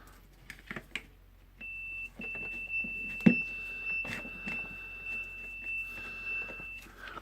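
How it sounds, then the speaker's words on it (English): A continuity tester emits a thin steady high beep while checking the power cord of a Hilti TE-905 AVR demolition hammer, holding for several seconds amid faint clicks and handling noises at close range. "So it will beep if it's good."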